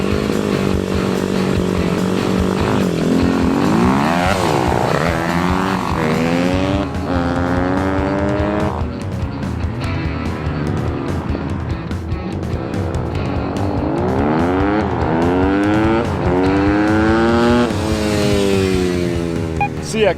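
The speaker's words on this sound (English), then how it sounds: "clearly a Honda 150R is much faster than a Hawk DLX 250, at least in a drag race" A Honda CRF150R and a Hawk DLX 250 dirt bike, one with a very loose chain, drag race side by side; loud close engines rev and rise in pitch through repeated gear shifts, rising and falling as they accelerate.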